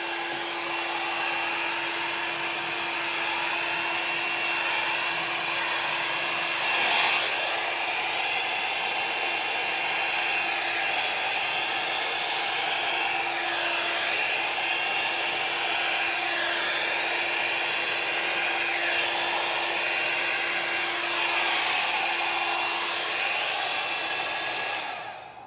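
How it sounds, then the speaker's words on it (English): A small hair dryer runs on its high setting for an acrylic paint pour, a steady close whoosh with a constant whine that holds for about twenty-five seconds before cutting off. "It's just a little tiny blow dryer."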